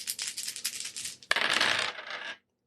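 Several dice rattle and clatter at a tabletop role-playing game, first as a run of quick clicks, then as one denser tumbling burst that stops abruptly.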